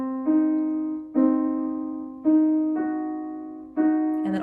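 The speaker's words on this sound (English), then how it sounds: "a diminished chord is a stack of minor thirds" A diminished chord built from stacked minor thirds, its notes struck one at a time on a sustained, organ-like keyboard tone, four clean entries each ringing on, with no voices.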